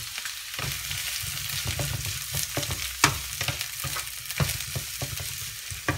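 Chopped onion and red pepper sizzle in a pan with a steady crackle, broken by the scrape and clatter of stirring at an uneven rhythm, close and moderately loud.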